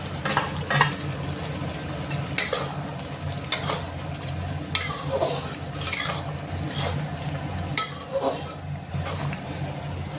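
Salted hilsa fish frying in a pan, a steady soft sizzle under repeated scraping stirs and occasional utensil knocks on the pan, moderately close.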